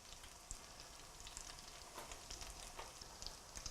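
Corn fritters frying in a pan of hot grease, a steady soft crackling sizzle with scattered pops running throughout, fairly quiet and close with no talking.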